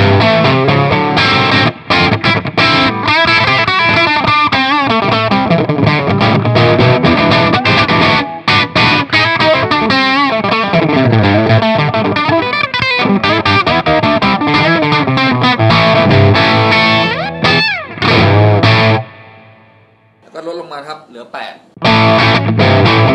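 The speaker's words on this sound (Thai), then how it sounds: "แล้วก็ข้ามมาเป็นเสียงแตกนะครับโดยเปิดสุดก่อนนะครับ" An electric guitar fitted with a paper-in-oil K42Y-2 0.047uF tone capacitor, distortion at full, plays heavily distorted chords and riffs loudly and continuously, fading briefly near the end before a final burst.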